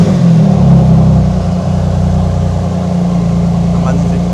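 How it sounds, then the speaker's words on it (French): A Porsche engine revving with a steady low drone and strong harmonic bands, loud and close, easing slightly after the first second and a half, with voices talking over it. "ça c'est le bruit du moteur Porsche."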